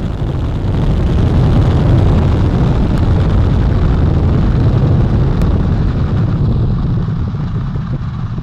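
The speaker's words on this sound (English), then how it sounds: "And liftoff of Artemis I." A loud, continuous roar of an Artemis I model rocket at liftoff, a dense low rumble holding steady for several seconds and easing slightly near the end.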